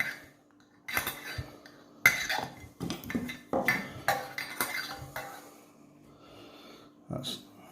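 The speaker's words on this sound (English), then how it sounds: "I use an extra long spoon for, so let's squeeze the tea bags." An extra long spoon squeezes tea bags inside a stainless steel Thermos flask, giving irregular metallic clinks and scrapes with soft wet squishes, while a person speaks intermittently between the knocks.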